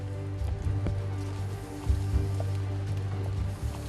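Rain falling steadily in a mountain forest on a remote island, a continuous close patter with a low rumble underneath and a few sharper drops or knocks standing out.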